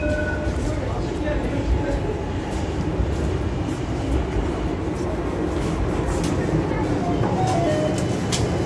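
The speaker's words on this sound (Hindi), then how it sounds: "This is a metro station." Metro station in Turkey with a train rumbling and clattering, a steady broad roar under faint background voices throughout.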